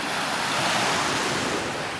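Loud ocean surf crashes and rolls continuously, close by with wind buffeting the microphone, the waves building as the weather turns toward rain.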